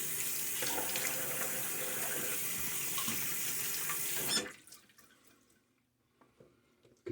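A tap runs with water splashing steadily into a sink during a wet shave, then shuts off abruptly, leaving a few faint drips and small handling sounds.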